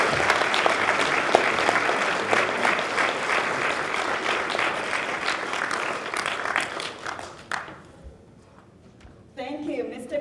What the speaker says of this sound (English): Please join me with a big round of applause for your interviewer of the day